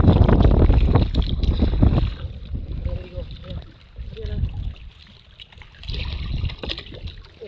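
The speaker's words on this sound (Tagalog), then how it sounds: "Napakaalon po dito at napakalakas ng hangin" Heavy wind buffeting the microphone over choppy sea, with waves slapping a small fishing boat; the roar is strongest at first, then gusts return in bursts.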